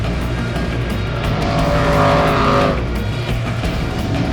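Off-road race vehicles roar past on a dirt course at the Hammers Stampede event as one driver tries to pass lapped traffic, a loud continuous engine drone that swells briefly and then eases.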